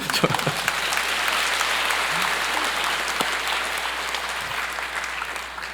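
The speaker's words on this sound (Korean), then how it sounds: "우리 큰 박수로 한번" Sustained applause from a church congregation at a Sunday worship service, steady broadband clapping filling the whole stretch at even loudness, with a few sharper individual claps near the start.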